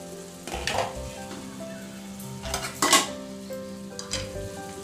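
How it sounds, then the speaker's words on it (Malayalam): A covered cooking dish in a pan, its lid lifted and the contents stirred, giving a steady close sizzle with a few louder scraping clatters of the spoon against the pan. "ഇനി നമ്മൾക്ക് ഇതിൻ്റെ മൂടി ഒന്നുകൂടെ തുറന്ന് ഒന്ന് ഇളക്കി കൊടുക്കാം"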